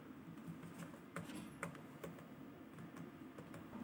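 Typing on a computer keyboard while entering text in an Excel spreadsheet, with quiet, close, irregular key clicks that come in quick bursts and are heard alone.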